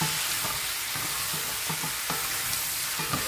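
Kare-kare being stirred in a frying pan, with a steady hiss of sizzling overlaid by repeated soft scraping strokes of a utensil at an even rhythm.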